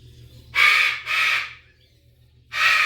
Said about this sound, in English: I have one loud bird.